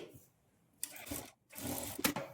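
A sewing machine stitches blouse sleeves slowly, short bursts of quiet mechanical whirring broken by pauses, close and faint with no talk.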